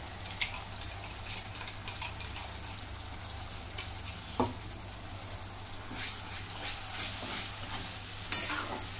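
A paste of ginger, garlic, tomato and coriander frying in a pan, a continuous soft sizzle broken by scraping stirs and an occasional clack of the spoon, close and alone.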